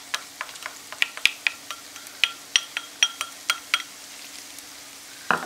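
Minced meat frying with hot pepper in a pan, soft steady sizzle under a series of close, sharp clinks and scrapes of a spatula against the pan as it is stirred.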